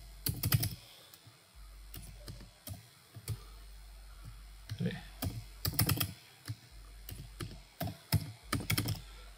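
Someone types a password on a computer keyboard while setting up a virtual pentest lab, with close, sharp keystrokes in short irregular bursts separated by pauses and a low steady hum underneath.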